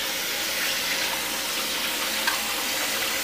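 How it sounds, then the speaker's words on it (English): Tap water runs steadily over cut chicken pieces in a bowl while they are rinsed for a Puerto Rican chicken stew, giving a constant close splashing hiss with no talking. "what we're gonna do is run them through some water"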